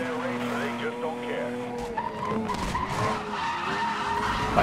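Car tires squeal and skid under hard braking in Need for Speed: Most Wanted, with a sustained screech over engine roar and a voice talking excitedly throughout.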